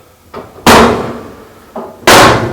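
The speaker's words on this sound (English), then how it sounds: "Now that those two screws are removed, go ahead and close the door." The door of a GE clothes dryer, opened for a front bearing and slide repair, pushed shut with two loud, close slams, each preceded by a softer knock, about a second and a half apart.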